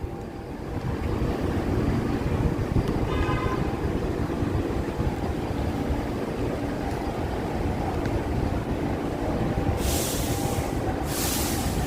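An elevated subway train in Queens, New York rumbles past loudly and steadily with broadband rail roar and faint clatter, punctuated near the end by two short bursts of hissing noise.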